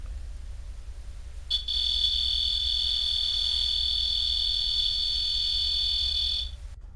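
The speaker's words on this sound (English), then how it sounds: "What you heard was our REM pod's alarm being triggered by something unseen." REM pod paranormal detector sounding a steady, piercing electronic alarm tone for about five seconds against quiet room hiss, starting abruptly and cutting off; a brief hush from a person precedes it.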